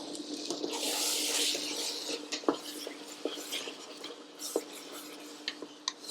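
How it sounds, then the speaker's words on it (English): Lamb curry being stirred after Greek yoghurt, chopped coriander and salt go in, giving a continuous soft wet swishing with light spoon scrapes and clinks against the pan, close and moderately quiet, with no voices. "Stir that in nicely."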